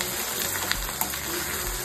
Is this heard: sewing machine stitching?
no